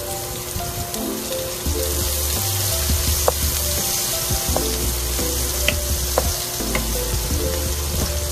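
Onions fry in a pan, in oil left from browning chicken for a creamy mushroom dish. A steady, close sizzle carries on throughout with scattered small pops and crackles.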